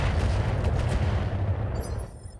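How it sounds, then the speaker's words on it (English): A missile launcher firing on a mech in a BattleTech game, a loud, dense rumbling blast of many launches that rolls for about two seconds and then dies away. "Fire one launcher."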